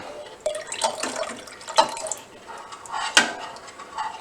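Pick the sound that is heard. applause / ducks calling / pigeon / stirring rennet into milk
stirring rennet into milk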